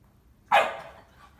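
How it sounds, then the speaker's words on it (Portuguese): A single sharp dog bark rings out in a workshop where a four-cylinder Opala engine is being assembled, loud and close, fading quickly into a quiet background. "Esse cachorro agora vai ficar aqui no pé."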